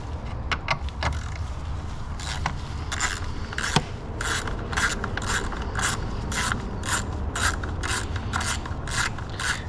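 A ratchet tool loosens a 13mm battery hold-down bolt on a Nissan Versa Note. It makes rapid, repeated clicking bursts at close range, with metallic scraping and rubbing between them.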